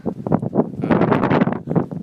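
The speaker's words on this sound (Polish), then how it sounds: "Jak pewnie słyszysz, wiatr mocno wieje" Strong gusts buffet the microphone in loud, rumbling bursts on the summit of El Teide, wind roaring continuously with brief lulls.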